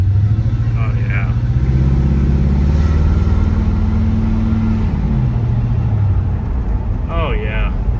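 A 1968 Ford car engine rumbles steadily at idle, low and loud throughout, with brief bursts of speech-like sounds near the start and end.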